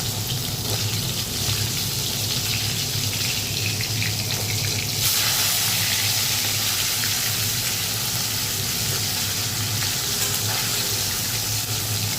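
Fish sizzling in hot oil in a pan, the last of four being fried crisp, a loud, steady crackling hiss that runs continuously without any talk.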